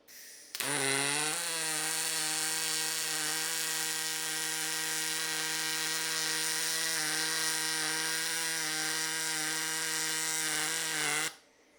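A Decapower Ultramig 230 MIG welder runs a single continuous bead on 1/8-inch aluminum in standard pulse mode, producing a steady, loud, tonal buzz that starts abruptly and cuts off cleanly at the end.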